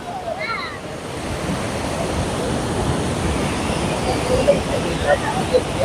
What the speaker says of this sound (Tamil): இந்த தண்ணி பாருங்கள் எவ்வளோ தண்ணி வந்துட்டுருக்குன்னு பாருங்கள்